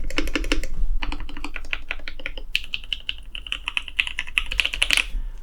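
Typing on a custom-built M-one mechanical keyboard fitted with dark amber switches: a close, steady run of crisp key clicks that comes in quick bursts and gets busier toward the end.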